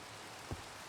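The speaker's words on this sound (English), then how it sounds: "We can't be missing any of that rain sound." Steady rain from the Minecraft video game, a soft continuous hiss of falling drops on surfaces, faint and even throughout with a brief low thump midway.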